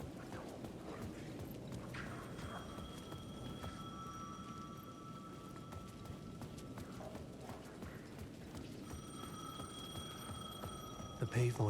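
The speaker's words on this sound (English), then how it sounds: "The payphone at the edge of the plaza was ringing again." A payphone at the edge of a plaza rings in Alan Wake II: bright, repeating electronic trills rise over a dim game ambience, with soft footstep-like thuds throughout.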